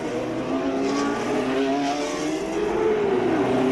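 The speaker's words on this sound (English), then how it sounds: "Carlos Reutemann climbs into his car, and the cars head for the grid." 1981 Formula One race cars, among them Alfa Romeo, Lotus, Tyrrell and McLaren, drive toward the starting grid. Engines drone steadily with rising and falling pitch as they pass at moderate distance, and no one speaks.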